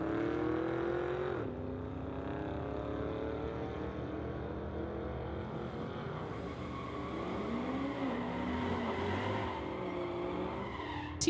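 Street-legal race cars at Mission Raceway drag strip: a sustained engine roar with rising and falling pitch as the cars accelerate down the track, steady and moderately distant for the whole stretch, with no talk.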